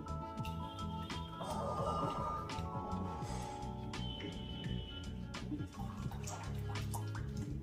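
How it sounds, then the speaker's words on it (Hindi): About half a glass of water pours into yogurt for a bottle gourd raita, a soft continuous trickle and splash, quiet and close with faint kitchen clinks. "यहाँ पे मैं डालूंगी 1/2 गिलास करीब पानी"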